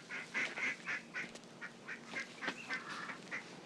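Ducks calling in a rapid series of nasal quacks and honks, fairly close and clear over a faint background, with no talk.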